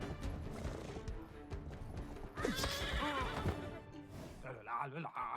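A horse neighs loudly amid clip-clopping hooves and clattering in a video game, with people talking over the commotion throughout.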